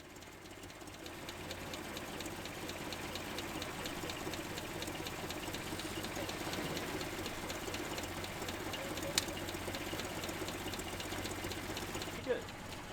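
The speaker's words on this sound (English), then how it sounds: "I do keep a high idle because I want it to have decent oil pressure" A 1965 Land Rover Series engine holds a high idle, a steady, even, rapid mechanical chatter at moderate level running unbroken, with a couple of sharp clicks near the end and a voice faintly underneath.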